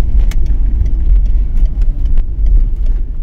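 A Fiat Ulysse 2.0 JTD diesel car pulls away after a shift into third gear, its engine a steady low rumble with continuous road and cabin noise.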